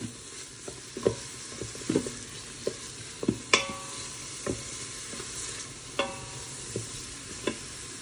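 Red lentils and double tomato paste stirred in a pot, heard as soft wet frying underneath, with intermittent spoon clinks and scrapes against the pot, fairly quiet and close, without voices.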